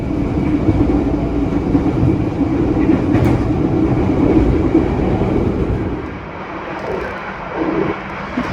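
The Taksaka passenger train in Indonesia rumbles along loudly and continuously, a dense steady roar of wheels and engine with no talking.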